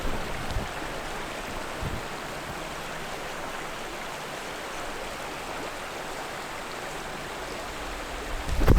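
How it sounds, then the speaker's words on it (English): A stream flows steadily along a trail near a damaged bridge, a soft, even wash of water with no talking, fairly faint and continuous throughout. "watch and listen to the flowing water, the entertainment of the flowing water"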